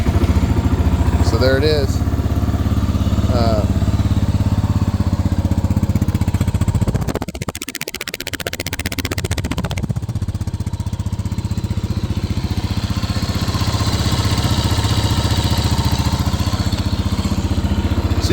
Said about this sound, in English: This is a cold start. I haven't started this bike in a long time.